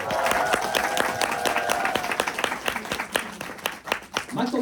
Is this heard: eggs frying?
no